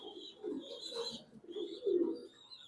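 A light-coloured female Willy racing pigeon with a 2022 ring coos close by, giving a few soft, throaty rolling calls separated by short gaps.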